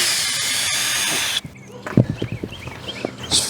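Cordless power drill driving out a square-drive screw buried under sealer: a steady high whine for over a second, then stops, followed by scraping and shuffling handling sounds.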